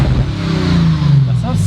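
A 2019 Audi RS5 engine revving through its muffler, loud and close with a brief rising and falling burble, while people talk over it.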